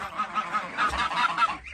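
Several geese honk repeatedly in a loud, overlapping chorus, close by on a village farm with turkeys and chickens, with no talking.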